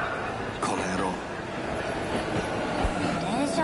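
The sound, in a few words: train arriving, from video game 13 Sentinels: Aegis Rim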